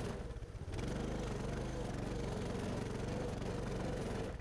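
A Coleman 200 mini bike engine runs at full throttle through snow, a loud, steady, buzzing drone held close throughout after a brief lower opening, with a faint voice underneath.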